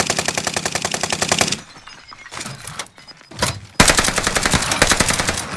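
Rapid automatic gunfire in a video game rattles in two long bursts, broken by a short gap of scattered impacts and thuds before the firing resumes loudly.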